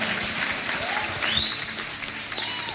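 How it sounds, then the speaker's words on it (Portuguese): A church congregation claps throughout, a steady dense patter of applause with a few faint tonal whistles and voices mixed underneath. "Aplauda esse Deus"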